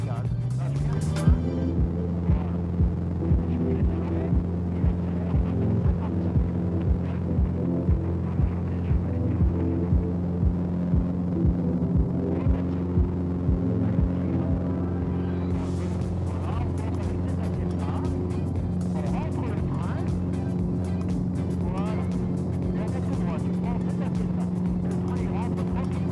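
A Piper PA-18 seaplane engine at Biscarrosse seaplane base throbs loudly and steadily through takeoff, a continuous droning roar with rhythmic pulsing, while a radio voice and the pilot speak intermittently over it.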